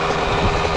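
Yamaha YZ125 dirt bike engine idling slightly high, a brief, loud and steady buzzing drone close by.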